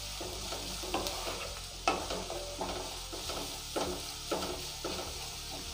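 Chopped onions sautéing with prawns in a pan for prawn thokku, a fairly quiet sizzle broken by rhythmic spatula scrapes and stirs at regular intervals, with no voices.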